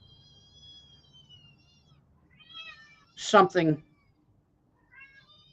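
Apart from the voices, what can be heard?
cats meowing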